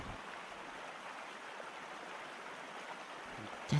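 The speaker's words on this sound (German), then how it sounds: "Dann ist das ein Bach." A brook flows in a steady, even rush of water, constant and fairly close, with a brief knock right at the end.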